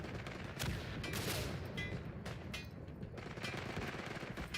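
Artillery barrage and gunfire in the World War I shooter Isonzo, with dense rolling blasts and crackling rifle and machine-gun fire going on steadily, loud and continuous, with no clear talk over it.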